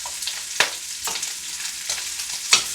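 Onions frying with goat meat in a pot for cabbage stew give a soft, steady sizzle, broken by a few sharp scraping knocks of a stirring spoon, heard close with no talking.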